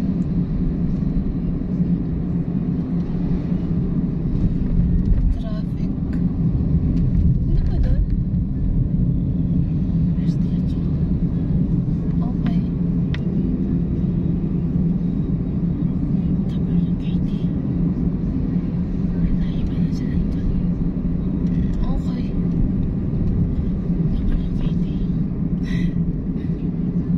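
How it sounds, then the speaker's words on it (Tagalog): City road traffic on a boulevard in Cabanatuan City: a constant low rumble of passing cars and engines, steady and fairly loud throughout, with faint scattered voices and clatter over the drone. "Traffic."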